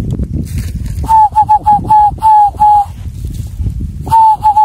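A person whistles an imitation of a zebra dove's cooing call in short, tonal bursts, loud and close, with a pause before the call resumes.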